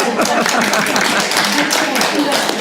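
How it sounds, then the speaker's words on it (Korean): Members of a church gathering clap for the pastor's wife after her volunteer work, a brief burst of brisk, close applause with voices talking alongside. "박수, 박수"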